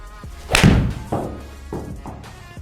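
A golf iron strikes the ball for a high draw shot, one sharp close thud followed by fainter knocks and outdoor ambience, no talk.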